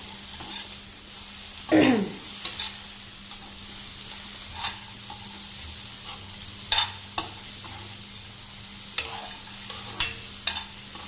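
Green gram sundal being stirred in a pan with vegetables, soft scraping strokes of a spoon every second or two over a faint steady sizzle, quiet and close with no talking.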